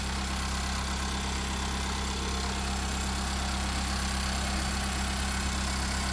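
A 2015 Nissan X-Trail hybrid idles with its bonnet open, a steady, even low hum and mechanical whir close by, with no voices and no change in level throughout.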